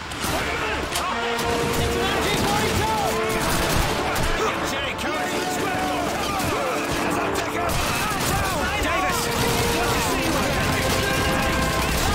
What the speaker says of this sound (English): Let's give Sergeant Davis and his boys some covering fire!